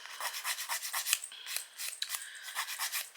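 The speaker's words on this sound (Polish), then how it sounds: "muszę jeszcze troszeczkę przepiłować" A nail file rasps back and forth across fingernails in a steady run of quick strokes, close and fairly loud, with one brief pause midway; no voices.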